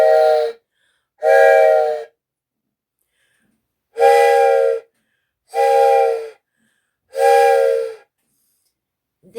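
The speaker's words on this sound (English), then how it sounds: "If you're wondering why I was blowing train whistles at the beginning of the video," A handheld train whistle, an heirloom passed down from a grandmother, is blown in five loud, close, chord-like blasts, each lasting about a second with short silent gaps between them.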